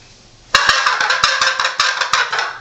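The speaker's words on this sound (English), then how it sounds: "you just get out the gobble call" A handheld shaker-style turkey gobble call, used for turkey hunting, gives a loud rattling gobble burst that starts abruptly and rolls on in quick, choppy pulses, close and alone without talk.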